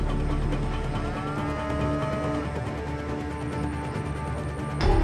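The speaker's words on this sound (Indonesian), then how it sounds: "Namanya juga si Bubalus Bubalis alias kerbau." Water buffalo low with drawn-out moos amid a noisy outdoor herd, fairly loud and close, with a clatter near the end and no talk.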